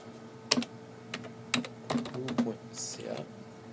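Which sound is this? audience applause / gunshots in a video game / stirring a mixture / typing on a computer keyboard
typing on a computer keyboard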